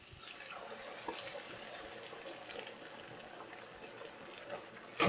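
Coconut milk and vegetable broth pour into a pan for a chickpea dish, making a soft, continuous liquid rush and gurgle that stays fairly quiet throughout.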